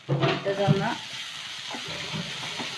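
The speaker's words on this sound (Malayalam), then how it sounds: "എണ്ണയിൽ കടന്നൊന്ന് മൊരിയട്ടെ" Curry leaves, green chilli, shallots and crushed coconut mix frying in hot oil, a soft steady sizzle under a voice, with a stirring clink partway through.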